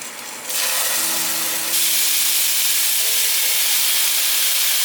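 Bitter gourd pan-frying in a little oil alongside tofu, a loud close steady hiss of sizzling oil that swells louder partway through, with faint low tonal hum underneath and no talking.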